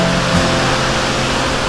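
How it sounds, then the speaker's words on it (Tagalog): Difuncian Falls, a waterfall in Quezon, Nueva Vizcaya, pours with a loud, broad, constant roar of rushing water, close and steady throughout. "tunog ng dumadaloy na tubig ay sobrang nakakatanggal ng pagod."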